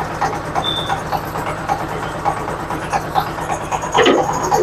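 Power tiller engine idling with the plough gear engaged, a steady close mechanical chugging with a rhythmic knock and clatter, loud and continuous with a slight swell near the end.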